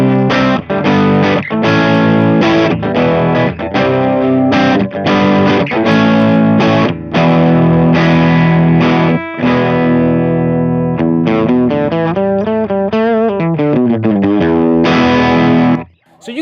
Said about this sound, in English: let's go back to the TH30, kick that thing into the dirty channel, and let's get some comparison of these two amps in the dirty channel